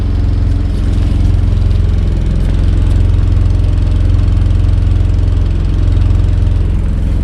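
A generator engine with an extended exhaust runs steadily at an off-grid cabin, a loud, deep, constant drone with no pauses or voices.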